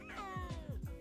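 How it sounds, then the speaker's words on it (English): Snow leopard giving a series of short, moaning meow-like calls, roughly four rhythmic pulses following a longer wavering tone, fairly close and moderately loud, ending with a sharper burst. "snow leopards sound like this."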